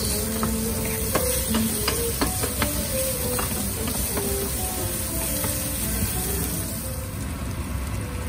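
Garlic and onion sauté in a pan for coconut-milk fish, with a steady close sizzle and hiss and occasional light stirring clinks and scrapes throughout.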